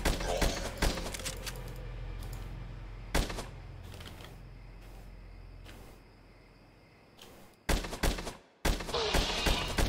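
Gunfire from slow bullets in a cheap horror video game, rapid bursts of loud shots in clusters, separated by short gaps and a quieter stretch before another sharp volley.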